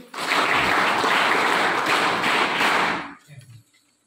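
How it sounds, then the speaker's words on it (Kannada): An audience at a student merit award ceremony claps together in a dense, steady round of applause for about three seconds, then it quickly thins to a few last scattered claps and fades out. "ಒಂದ್ಸಲ ಎಲ್ಲರೂ ಚಪ್ಪಾಳೆ ತಟ್ಟಿ."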